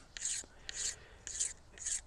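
Bamboo cane has its outer skin scraped off with a blade, four short raspy strokes repeating evenly, close and fairly quiet.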